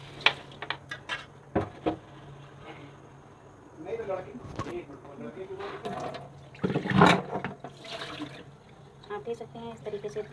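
Lentils (dal) are rinsed in a pot of water, giving intermittent sloshing and splashing bursts that come close up in irregular surges, with a person talking in between.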